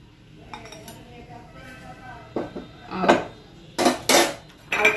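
A sandwich is slid out of a pan onto a plate in a home kitchen, with a few sharp clinks and scrapes of metal and dishware clustered toward the end, while a voice talks over the clattering.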